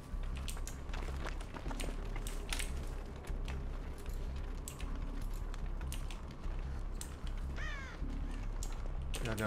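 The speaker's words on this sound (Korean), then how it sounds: "내가 까마귀 안 날렸는데 니가 날리면 어떡해." Crows in the video game Dead by Daylight, caws rising from several birds over a steady noisy background with clicking sounds, one clearer caw near the end as they fly off.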